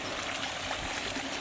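Water trickling steadily in a tropical garden water feature, a soft continuous flowing wash with no talk over it.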